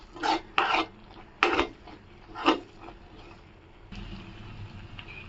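Eggs stirred in a pan on a stove over medium flame for egg fried rice: four or five sharp, raspy scraping strokes of a utensil against the pan, close and fairly loud, followed by a softer, quieter sizzle.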